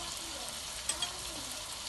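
Garlic and onion sizzle steadily in a hot pan as they are sautéed for pork giniling, a close, even frying hiss with a couple of brief clicks of stirring.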